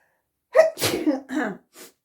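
A person sneezes once, a sharp burst with a quick inhale before it, then a short breathy exhale, close and loud in a quiet room.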